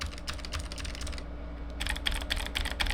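Fingers type on a Razer Huntsman Mini keyboard with clicky switches, giving rapid, crisp, clacky keystrokes close up, a brief pause midway, then another quick burst of keypresses.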